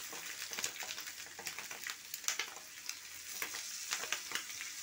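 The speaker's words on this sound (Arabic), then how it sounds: "اول ما نشوح البطاريخ هننزل عليهم بمعلقتين بصل" Fish roe sautéing in a pan with onions gives a steady, moderately quiet sizzle and crackle, with scattered sharp pops and no voices.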